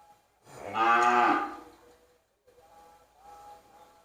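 A single long, loud cow moo from young female cattle at a Thai livestock trading pen, rising and fading over about a second, followed by a fainter, quieter second call near the end.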